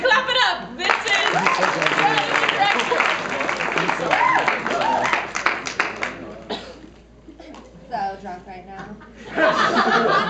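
An audience at a comedy show claps and laughs in a dense, continuous wash, mixed with voices talking over it, then dips briefly before swelling again.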